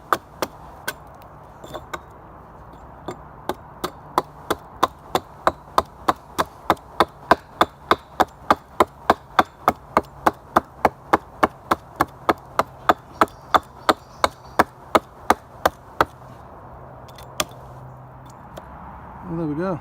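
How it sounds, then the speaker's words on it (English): Axe strikes cutting a notch into a wooden log branch for a cabin wall, sharp close chops repeating steadily about twice a second for most of the span, with a short pause near the end. "I'm just making a notch in this branch here so it'll fit round the support post of the cabin"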